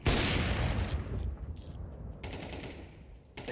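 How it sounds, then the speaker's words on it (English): Flashbang grenade going off in a video game, a loud booming burst that opens the clip, followed by gunfire-like crackle and rumbling noise that continues at a lower level. "Throwing flashbang."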